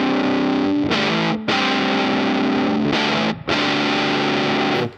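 A guitar plays through a fuzz pedal with its tone control fully off, at its brightest setting. The chords are heavily distorted and loud, with brief gaps between strums and no talking.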